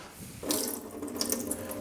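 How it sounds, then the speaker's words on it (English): Water is poured off soaked raisins in a kitchen, a steady splashing rush as if draining into a sink, close by and continuous after a brief quiet start, with no talking. "drain the water, the excess water out of the raisins"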